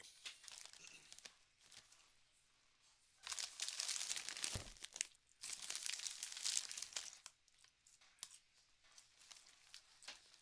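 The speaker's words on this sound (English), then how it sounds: "I made some Cool Ranch Doritos, so don't mind me." Bag crinkling and crunching of Cool Ranch Doritos tortilla chips being eaten, in bursts of rustle with quieter pauses between, close and moderately loud, heard during a live reaction to a Patriots–Jets football game.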